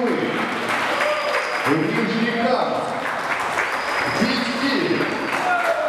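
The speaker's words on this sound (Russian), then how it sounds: "Давайте поприветствуем громкими аплодисментами" Applause at a children's and youth kickboxing tournament in Mendeleevsk: steady clapping from the crowd continues beneath an announcer's amplified voice reading out city names.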